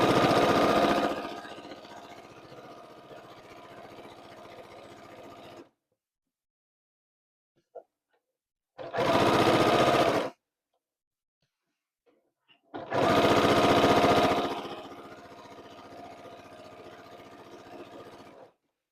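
A sewing machine stitches a kawandi-style improv quilt coverlet in quick loud runs, stopping for a few seconds of silence, a brief back tack, then two more steady bursts of stitching.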